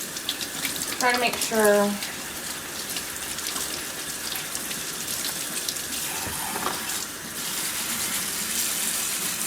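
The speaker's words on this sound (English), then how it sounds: "I'm going to rinse it in the sink." Plastic parts of a cat water fountain rinsed under a running sink tap, a steady close gush of water throughout, with a person speaking briefly over it.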